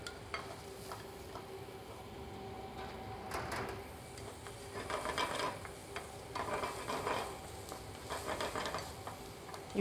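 Onions sauteing in butter in a pan, a soft, faint sizzle broken by scraping stir strokes and clatters of a utensil against the pan, with no voices.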